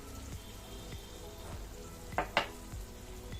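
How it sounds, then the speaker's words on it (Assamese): Raw mango pieces stirred in hot oil in a pan, with a steady low sizzle and a couple of sharp spoon scrapes and clinks against the pan near the middle, close and quiet, no talking. "তেল গৰম আছে বাবে আমখিনি এনেকুৱা হৈছে দি গোটেইখিনি ভালদৰে লৰাই দিছোঁ"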